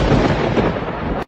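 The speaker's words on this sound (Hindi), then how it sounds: "ये बिना मौसम की गरजती हुई बारिश हमें क्या संकेत देती है?" A loud, broad rumble of thunder during an unseasonal rainstorm rolls steadily for about a second, then cuts off abruptly, with no talking.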